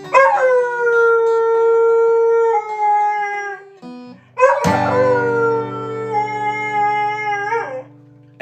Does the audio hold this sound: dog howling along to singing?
yes